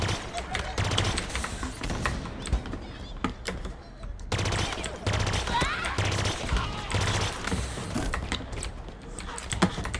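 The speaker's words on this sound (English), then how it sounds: "A lot of bullets just to kill the worst enemies in the game." Rapid automatic gunfire from the video game Halo Infinite, dense bursts of shots crackling almost nonstop with brief gaps, mixed with keyboard clatter and a player talking.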